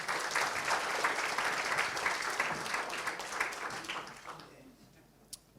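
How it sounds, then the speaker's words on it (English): An audience at a breakfast briefing on storytelling breaks into a warm round of applause that holds steady for several seconds, then fades away. "Lovely, big round of applause."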